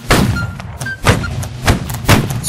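Musket volley fire in the Holdfast line-battle game: several broad, booming shots in an irregular series of heavy thumps, with brief voice commands in between.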